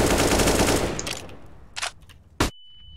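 Automatic gunfire spray in the shooter game CS:GO, a dense loud burst of rapid shots that fades, followed by a few short separate pops and one sharp final crack.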